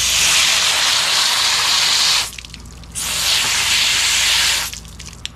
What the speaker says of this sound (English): try to use my hose to blow that out of there